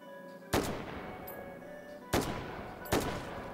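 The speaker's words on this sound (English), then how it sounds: "Oh, we're being shot at." Three sharp gunshots in the VR shooter H3VR during a Santa sausage shootout inside a snow globe, spaced irregularly with a pause before the last two, each a loud broadband crack with a short decaying tail over a low game hum.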